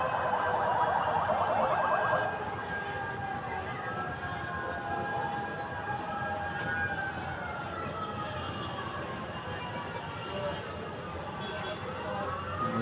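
Fire truck sirens wailing as fire engines from several towns and barangays arrive at a neighborhood fire in Batasan Hills, Quezon City, loudest at first, then fainter and more distant under a crowd's murmur.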